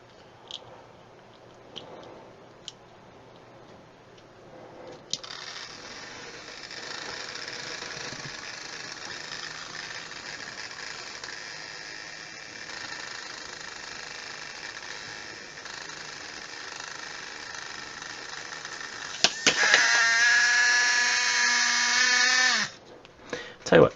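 A cheap Dollar Tree fan's small motor runs under load, a thin steady buzzing hum that starts after a few quiet seconds, then rises into a brief louder whine near the end before cutting out.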